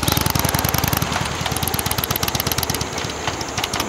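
A Piaggio MP3 three-wheel scooter's engine during a motorcycle road test, a close, lugging, rapidly pulsing thrum that knocks at low revs around a gear shift, with no voices.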